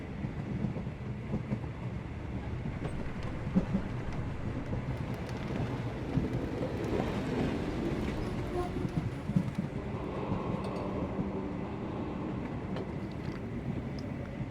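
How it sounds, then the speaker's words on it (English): A train running on rails in a Sherlock Holmes video game, a steady rumbling roll with faint clickety-clack that continues throughout at a constant moderate level, with the sense of riding aboard. "we can still catch tonight's train"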